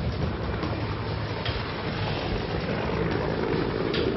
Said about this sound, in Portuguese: o helicóptero continua dando rasantes por toda a comunidade